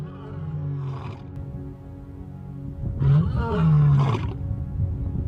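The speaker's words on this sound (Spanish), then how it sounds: "El rugido de un león, en ocasiones se puede oír a 5 kilómetros de distancia, o incluso más lejos." African lion in the savannah gives deep, guttural roars, a lower rumble early on then two louder strained bursts near the end, heard close with a faint narrating voice beneath.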